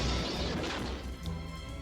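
An explosion from the Goldfinger movie trailer hits hard at the start with a dense crashing roar that slowly decays into rumbling debris over about two seconds.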